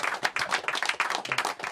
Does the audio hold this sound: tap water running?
no